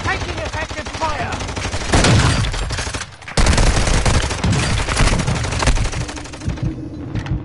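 Rapid bursts of automatic gunfire and explosions from an online PS4 shooter, loud and dense across the whole stretch, with a brief lull midway before the firing resumes at full intensity.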